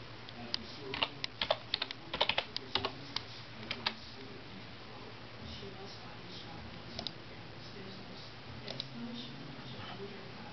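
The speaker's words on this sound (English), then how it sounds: "Type in YouTube. Type in any video you want." Someone types on a computer keyboard, a quick cluster of close key clicks followed by a few sparser taps, with faint background noise.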